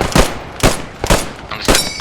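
Four heavy, loud gunshots from a machine gunner in the WWII shooter Post Scriptum, spaced about half a second apart, each with a short rumbling tail.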